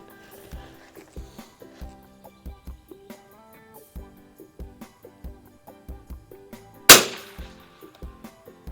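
A single sharp, loud crack from a Mossberg No. 46 tube-fed .22lr bolt-action rifle with a No. 6 scope at an outdoor range, standing out near the end over a quieter, steady rhythmic tonal background.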